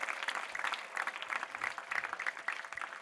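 A church congregation at a Thursday prayer service claps together in a continuous, moderately distant round of applause that lasts throughout.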